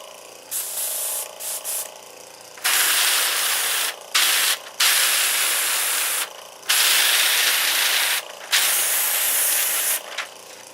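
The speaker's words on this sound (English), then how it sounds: "Make sure that it's spraying, not dripping." Repeated bursts of airbrush spraying gold paint, a fine steady hiss switching on and off several times, with short quiet gaps between the longer sprays.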